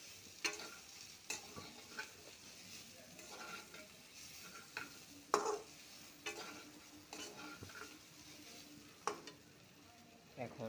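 Onions frying in a pan with bay leaf, dried chili and cumin: a steady low sizzle with repeated sharp clinks and scrapes of a spoon stirring, close and moderately loud.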